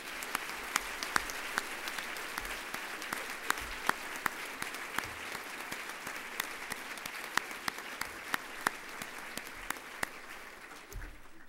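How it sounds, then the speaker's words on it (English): Sustained audience applause at a United Way board meeting, steady dense clapping with sharp individual claps standing out, continuing evenly for the whole stretch without speech. "so let's give them a big round of applause."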